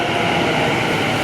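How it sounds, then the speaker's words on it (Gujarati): An Ahmedabad metro train arrives at the station, a steady, loud rolling rumble and hiss of the train close by, sustained without pause. "ફાઇનલી અમારી મેટ્રો આવી ગઈ છે. જુઓ બાકી કેટલી રમરમાટી ફાસ્ટ આવે છે."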